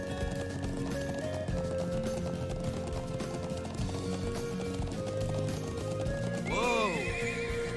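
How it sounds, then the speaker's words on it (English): Horse neighs loudly near the end in the Trails of Cold Steel video game, with a steady clip-clop of hooves running through the whole stretch over constant game music and ambience. "Whoa. Horsey."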